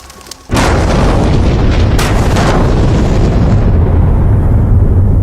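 A mine blast fired in an open-cut pit, starting abruptly with a loud, deep boom that rolls into a sustained, heavy rumble for several seconds, powerful and broad, with no voices over it.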